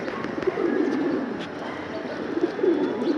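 Pigeons coo repeatedly at close range on a hot afternoon, their low throaty calls rising and falling in a steady rhythm over a soft background hum, with no talking.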